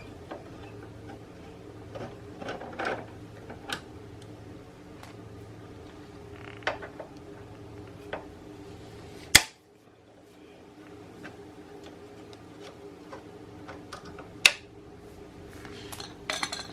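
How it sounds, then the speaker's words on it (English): Close, quiet clicks and metallic ticks come as an Allen wrench loosens the chain cover bolts on a Honda Super Cub, sparse and irregular, with a few sharper clanks of metal parts being handled. "I'm gonna go remove the chain cover. We're gonna use our 5mm Allen wrench to remove it"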